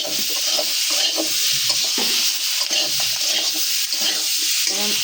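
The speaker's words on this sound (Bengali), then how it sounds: "এখানে যে পাপের জন্য চিংড়ি মাছ মশলাটা দিয়া ভালো মতো ভালো মতো কষা নিতেছি" Shrimp with spice masala being stir-fried in a pan, a steady, loud sizzle with repeated scraping and stirring strokes close by, no voices.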